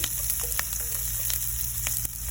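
Garlic and green chilli fry in butter in a pan, a constant close sizzle broken by a few quick crackles and spatters, with no speech over it.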